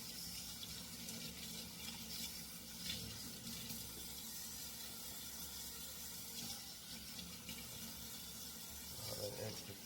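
Running tap water pours steadily while salt is rinsed off Cornish hens in a sink, a faint continuous splashing hiss with small spatters and no clear voices.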